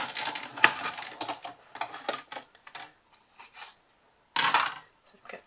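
A die-cutting machine feeds paper through cutting dies for star treat bags, giving close, uneven bursts of scraping, rasping and metallic clinking, with a louder grinding stretch near the end.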